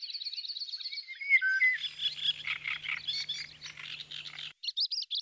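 Dense birdsong of nightingales, golden orioles and great reed warblers at Lake Kerkini in northern Greece; continuous overlapping chirps, trills and warbles, with a faint low steady hum underneath for part of the time.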